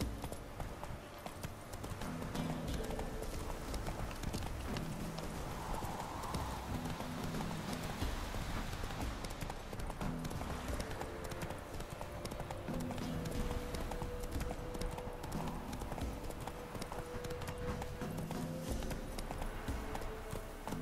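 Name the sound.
horse galloping in the video game The Witcher 3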